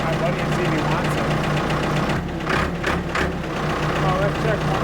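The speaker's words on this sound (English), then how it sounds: "So, the engine sounds good." A Ford 655A backhoe engine runs steadily at a close, loud, rough idle with a constant mechanical knock and vibration, and people talk over it.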